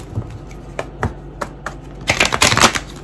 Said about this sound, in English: this video if you like while I shuffle cards